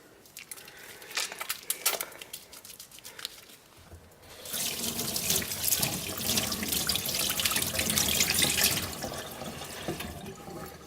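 Tap water runs into a sink while soap is tried out, first as a light trickle, then a fuller, louder steady gush for several seconds before easing off, no voices.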